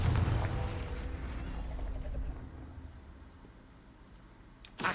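A Confringo fire spell in Hogwarts Legacy bursts with a loud, broad blast that rumbles and slowly fades over several seconds, ending with a short sharp crackle.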